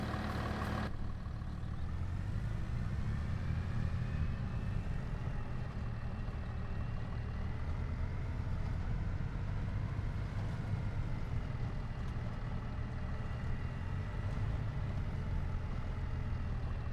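A John Deere tractor in a logging simulation game idles with a steady, deep engine rumble and low droning hum, continuous and unchanging throughout, with no talking.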